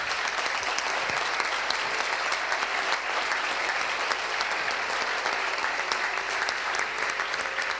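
Steady, sustained applause from an audience at a national pastry championship awards ceremony, honoring the teachers of hotel and hospitality schools; dense clapping fills the whole stretch evenly with no voices over it.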